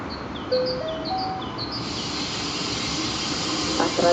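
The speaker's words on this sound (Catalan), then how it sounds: "Entrarà per la via 1 el tren de la línia S1 amb destinació Terrassa Nacions Unides." An FGC Granota train on line S1 pulls into a station platform, its steady hissing rumble filling the space after a short rising chime sequence, with a brief clatter near the end.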